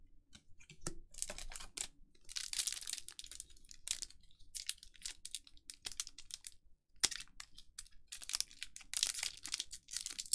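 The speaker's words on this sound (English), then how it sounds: "this pack does not want to cooperate, so we're going to test out the pull tab here" Crinkling and tearing of a Magic: The Gathering Kaldheim set booster pack wrapper, with irregular close-up crackling bursts and short rustles spread across the clip, no talk.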